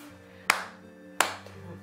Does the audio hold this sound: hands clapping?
yes